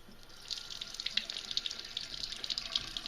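Hot water running from a bathroom sink tap, a steady hissing splash with faint dripping accents, continuous and close with no talking.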